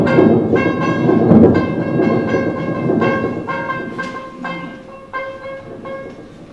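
Rolling train or tram wheels in a stage drama effect, a steady loud rumble with tonal squeal lines and rhythmic clacking that fades slightly toward the end, with no voices.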